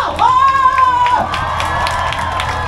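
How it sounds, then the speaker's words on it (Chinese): A night-market crowd cheers and applauds for a performer, with whoops and shouts over clapping. A sustained vocal tone rises briefly near the start, then a steady wash of crowd noise continues at close range. "从我们以最热烈的掌声三倍的尖叫声"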